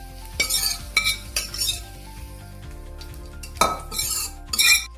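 Hot tadka tempering poured into a Marathi koshimbir salad: a loud sizzle and hiss with spoon clinks and stirring against the bowl, in bursts close up, without talk.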